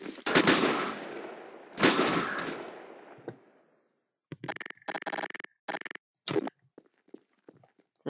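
Two loud sniper rifle shots from the M9K weapon pack in a first-person shooter game ring out with long decaying tails, followed by a quieter burst of rapid clicks and mechanical clatter.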